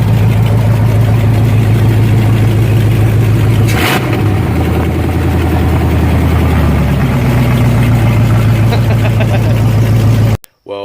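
A car engine fitted with headers and a Flowmaster 70 series exhaust idles loud and close with a deep, steady rumble, briefly blipping once before settling back to a lumpy idle.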